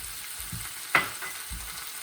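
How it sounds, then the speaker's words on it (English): Chicken thighs sauté in a pan with a soft, steady sizzle, broken by a few low knocks and one sharper scrape as the meat is moved. "This is sauteing."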